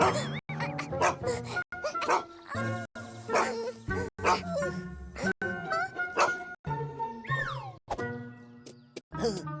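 A dog yips and barks in short bursts over lively cartoon music and sound effects, with frequent brief cuts.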